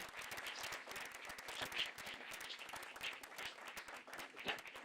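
Audience applause for a keynote speaker at a talk on systems, power and security: dense, steady clapping from a crowd, fairly faint and distant, continuing evenly without a break.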